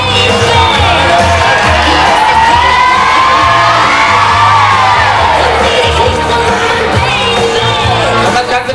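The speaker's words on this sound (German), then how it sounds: "Nochmal einen Applaus, vielen Dank" A school graduation crowd at the Jack Steinberger Gymnasium in Bad Kissingen roars with loud, continuous cheering, whoops and yells that fill the whole stretch without a break.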